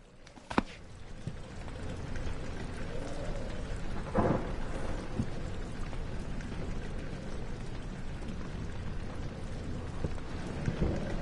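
Steady rain pours throughout in the game Amnesia, a dense close hiss, with a sharp crack near the start and a low rumble of thunder midway, no voices.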